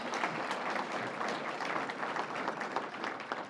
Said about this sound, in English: You can clap for those guys.